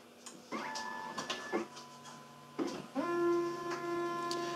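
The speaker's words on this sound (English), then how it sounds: "Now I'll send the same print job to the ID card printer" A Javelin J310C ID card printer feeds and prints a card, giving close mechanical whirs and motor tones with clicks between passes, a steady hum building in the second half.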